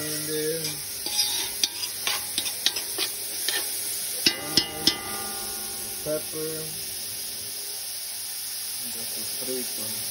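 Ham and onion fry in a hot pan, with a steady sizzle and hiss under repeated scraping stirring clicks, close and fairly loud with no talking.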